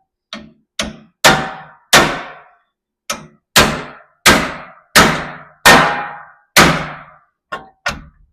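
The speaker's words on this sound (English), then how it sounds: "you get to get a hammer and change its mind" Hammer striking a metal part on a 1957 Chevy, about a dozen loud ringing clangs in an uneven rhythm, each ringing briefly before the next blow, with no talk.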